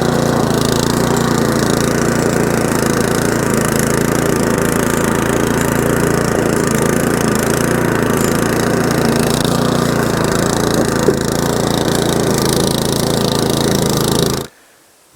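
An MTD Optima 38VO walk-behind lawn mower runs with a steady, loud, close engine drone for about fourteen seconds, then cuts off abruptly near the end.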